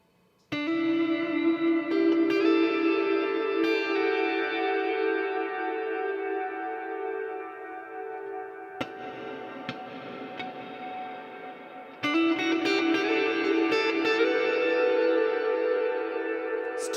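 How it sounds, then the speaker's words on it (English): Sustained electric guitar chords ringing out with a long, washy reverb tail that slowly decays, then a fresh strum swells back in with the same cavernous echo. "reverb is that sound that you hear like if you're in a cave or a bathroom"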